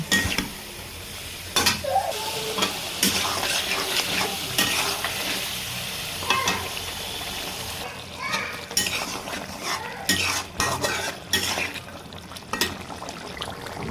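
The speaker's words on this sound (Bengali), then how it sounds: "মাংসটাকে আমি ভালো করে কষিয়ে নেব।" Beef being browned with spices in a pot for a Bengali home-style beef curry with new potatoes. A fairly loud sizzle runs under repeated scraping and clanking of a spoon against the pot, with bursts of stirring and no voices.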